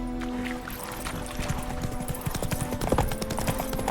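Hoofbeats of Roach, Geralt's horse in The Witcher 3, clopping in a steady rhythm at close range over a low ambient game backdrop, the hoof strikes growing denser and louder partway through.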